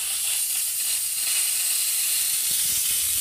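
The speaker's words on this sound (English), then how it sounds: "if you want a lot of wetness and you want to use the steam as almost a rinsing tool, simply increase your pressure" A steam cleaner running at raised pressure gives a steady, loud, broadband hiss that holds constant throughout, with no talking.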